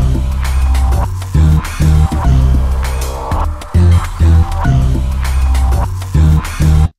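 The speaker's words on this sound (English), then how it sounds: "And the Hofner violin bass from the M-Tron Pro Factory samples." A Mellotron Hofner violin bass sample doubled with a voice sample plays a low, punchy line in a dense, loud mix with choppy repeated notes and short breaks, no talking.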